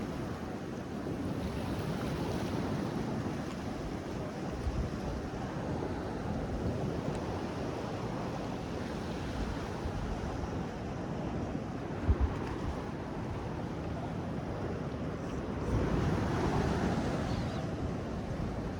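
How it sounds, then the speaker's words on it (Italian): Sea surf at the Cane Malu natural pool in Bosa Marina, Sardinia: a continuous, full wash of waves with wind buffeting the microphone, swelling slightly near the end. "E qua abbiamo il mare"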